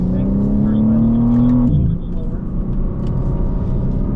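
A 2024 BMW M3 CS on a track at the BMW Performance Center, its engine droning loud and steady with climbing revs, then a sudden drop at a gear shift into a lower, rougher rumble.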